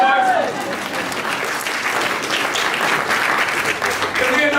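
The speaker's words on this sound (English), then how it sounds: "Y'all better clap for that." Loud, sustained clapping from an audience fills the stretch, with cheers rising through it and a speaker's voice heard at the start and end.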